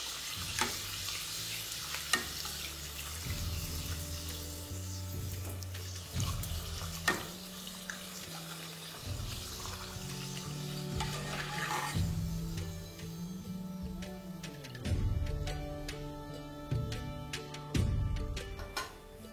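Pea-filled kachoris deep-fry in hot oil, a steady bubbling sizzle with repeated scrapes and knocks of a utensil against the pan; no one speaks.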